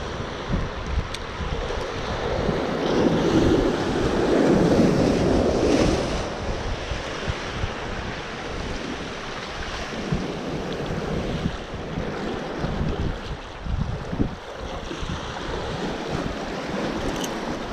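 Ocean surf pounds a rocky fishing shore where an angler is casting for bass, a continuous loud wash of breaking waves with a heavier surge early on, mixed with steady wind rumble against the microphone and no talking.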